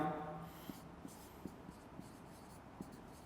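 Marker or chalk strokes on a board as a diagram is drawn in a physics lecture, faint scattered taps and short scratches spaced irregularly over a quiet room background.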